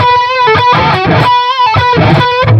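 Distorted electric guitar notes broken up by percussive, muted string rakes that give each attack a thumpy, choppy edge.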